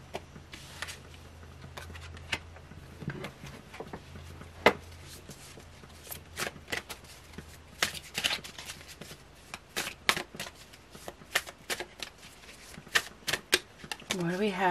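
Quick papery riffles and taps of tarot cards being shuffled, coming in irregular bursts, close up, with occasional soft voices murmuring underneath.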